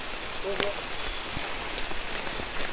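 Steady rain falls with a constant hiss and scattered drops outdoors at night, fairly loud and even throughout, with faint voices in the background.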